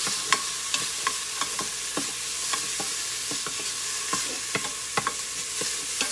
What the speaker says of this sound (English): As you can hear, it's sizzling.